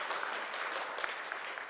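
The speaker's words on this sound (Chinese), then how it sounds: "我们拍手哈" Church congregation clapping together after a closing prayer at a worship service, a dense, steady wash of applause sustained throughout without a break.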